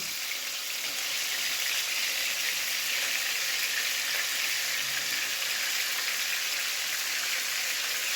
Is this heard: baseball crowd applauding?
no